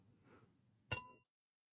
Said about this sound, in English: So maybe I'll ring the bell again.